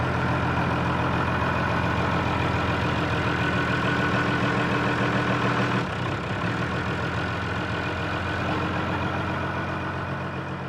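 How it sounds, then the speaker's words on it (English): A tractor engine rumbles steadily at close range while moving a hay bale on a farm in New South Wales, Australia, with a brief change in load partway through as it works. "about to use his tractor to just simply move one of these bales of hay"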